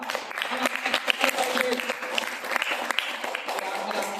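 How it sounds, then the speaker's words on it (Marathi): Applause from an audience at a Ramai Jayanti celebration gathering in Parbhani, a steady burst of clapping sustained throughout, with a voice speaking over it. "तुमच्यासाठी जोरदार टाळ्या वाजवायचा"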